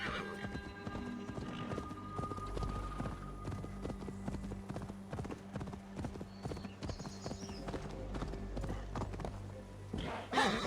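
In the Assassin's Creed Valhalla video game, a horse gallops with steady, rapid clip-clop hoofbeats close by, and a neigh breaks out near the end.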